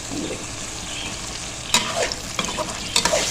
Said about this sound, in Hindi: इसको हम थोड़ा सा भूनेंगे मसाले के साथ ही